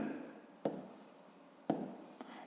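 Writing on paper during a fifth-grade maths exercise, a soft continuous scratching with two sharp taps about a second apart, heard close up.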